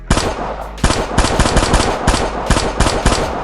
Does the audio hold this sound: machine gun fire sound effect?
yes